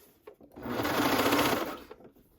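Sewing machine stitching a curved shirt hem, running steadily for about a second and a half with a soft start and stop, close and fairly loud, no talking.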